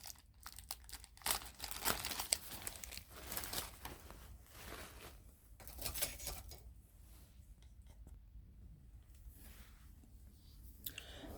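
Crinkling and rustling of wrapping paper while unboxing a Dooney & Bourke bag, soft irregular crackles and crunches up close at low volume, with occasional handling clicks and no talk.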